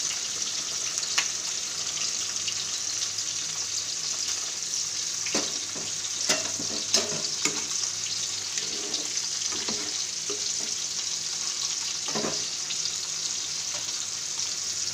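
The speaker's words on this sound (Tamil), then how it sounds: "இப்போ குழம்புல வந்து புளி தண்ணி ஊற்றிக்கலாம்" Steady sizzling and frying fill the clip, with scattered clinks and brief liquid splashes as tamarind water is poured into a frying fish curry and stirred.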